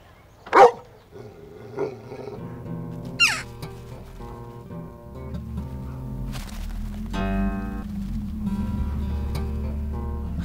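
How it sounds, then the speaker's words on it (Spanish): A dog barks a few times in short, sharp bursts near the start, amid a busy scene with layered tonal sounds and background noise that continues after the barks stop. "Mira, un perro."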